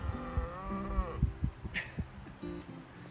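A cow moos from far off on a backcountry trail, a low drawn-out call that bends downward and fades, followed by a few faint thumps and rustles nearby.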